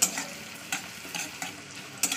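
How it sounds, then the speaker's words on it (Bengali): Onions frying and being stirred in a hot pan for a chicken curry, giving a steady sizzle broken by several sharp scraping stirs at irregular intervals, close and moderately loud, with no talking. "তো চলুন পেঁয়াজটাকে ভালো করে আমি লাল করে ভেজে নেবো"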